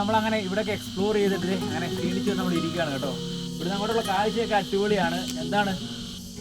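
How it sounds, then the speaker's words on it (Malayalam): Crickets chirp in a steady high-pitched drone at Devarayanadurga hills in Karnataka, behind a person talking close by throughout. "ചീവീടിൻ്റെ സൗണ്ട് ഇങ്ങനെ കേട്ടോണ്ടിരിക്കുക"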